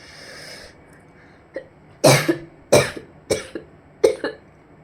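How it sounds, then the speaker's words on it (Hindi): Four sharp, loud coughs in quick succession after a short breathy sound, each one trailing off briefly before the next. "बोल बोल के दोस्तों खांसी होने लगा।"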